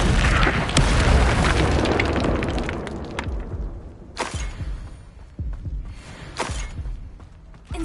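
An Incendio fire spell erupts in a video game as a loud, rumbling explosive blast that rolls and fades over several seconds, followed by a few sharper bursts and impacts.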